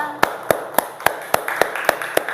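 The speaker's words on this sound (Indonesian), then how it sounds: "Beri tepuk tangan buat kelompok 2." A classroom gives group 2 a round of applause as evenly spaced, rhythmic claps in unison, about nine sharp beats at a brisk steady pace, moderately close.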